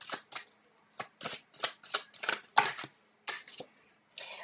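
Tarot cards are riffled and shuffled by hand in quick, crisp bursts of flicking paper, about ten short rapid riffles with brief pauses between them, close and fairly soft.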